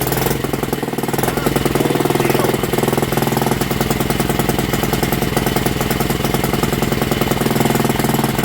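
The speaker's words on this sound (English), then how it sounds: "Tickle our carb, back off compression, choke on, and here we go." A Barford Atom engine runs with its choke on after starting, giving a loud, rapid, even thumping with a knocking rhythm that fills the whole stretch.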